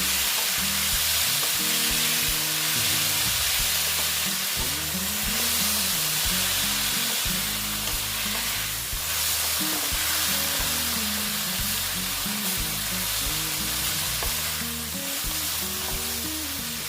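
Banana flower sautéing and frying in a pan gives a loud, continuous sizzle, with steady scraping and stirring strokes returning in a rough rhythm throughout, close up and with no voices.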